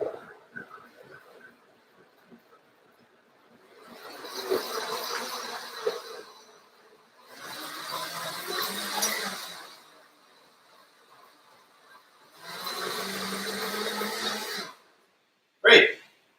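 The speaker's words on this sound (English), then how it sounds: "So this might get loud with a blender" A Vitamix blender purees hot roasted tomato chicken soup in three loud whirring bursts of a few seconds each, separated by short pauses, with faint sounds between the runs.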